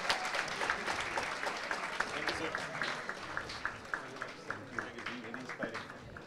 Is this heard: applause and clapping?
yes